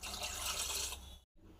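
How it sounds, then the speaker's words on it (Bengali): Water poured into a pot of lentils (dal) with tomatoes during home cooking, making a steady, close splashing rush for about a second before it stops abruptly. "জল দিয়ে দেবো, ডালের মধ্যে টমেটোগুলো দিয়ে দেবো।"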